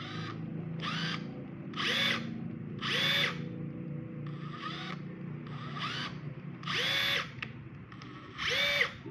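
A Makita TD137 cordless impact driver runs in repeated short bursts, each a loud rattling hammer whine rising in pitch, separated by brief pauses over about nine seconds.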